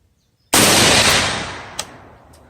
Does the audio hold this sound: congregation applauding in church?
no